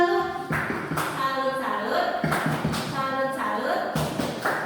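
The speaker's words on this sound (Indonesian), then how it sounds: "Tepuk tangannya kita kasih tepuk salut." A group claps a salute clap in a school teachers' session, several quick bursts of hand claps mixed with speaking voices.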